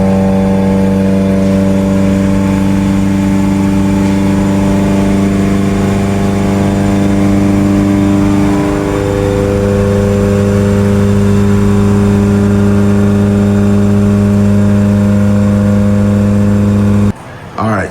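A Mitsubishi Evo on a stock block with an AGT 64mm turbo runs under load. Its loud, sustained engine drone slowly climbs in pitch for a long stretch, then cuts off abruptly near the end.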